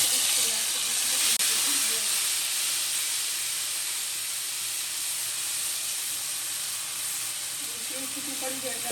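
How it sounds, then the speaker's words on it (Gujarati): Cumin seeds and a few curry leaves sizzle in hot oil for tempering, giving a steady, even hiss that holds for several seconds with no voices. "આપણે હવે આમાં જીરું ઉમેરી દઈએ"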